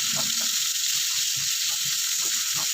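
Ground meat fries in a pan with a steady, close hiss of bubbling fat, broken by soft scraping and stirring sounds at irregular intervals.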